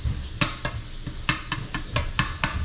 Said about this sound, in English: I'm gonna chop it up a little bit more